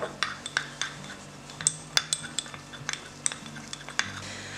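A metal teaspoon stirring peach luster dust in a small dish gives quick, light clinks and scrapes in a steady uneven rhythm, close by and clear, with no talking.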